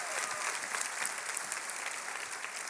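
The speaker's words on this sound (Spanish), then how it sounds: "Denles un aplauso." Church congregation applauding for visiting pastors, a steady wash of many hands clapping at even loudness throughout, somewhat distant and without talk.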